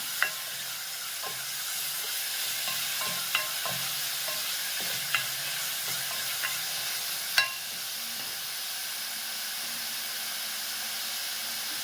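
Onions and green chillies sautéing in a pan for a Tamil-style kurma, a steady close sizzle with a few sharp clicks of a spoon stirring against the pan, no voices.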